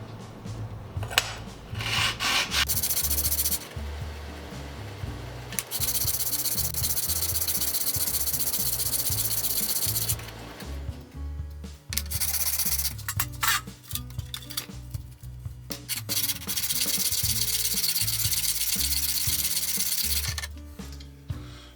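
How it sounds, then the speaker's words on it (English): A hand plane blade has its back flattened on a flattening station, giving a loud, continuous rasping scrape in long sustained strokes with brief pauses between passes. "First thing I need to do to the blade is flatten the back."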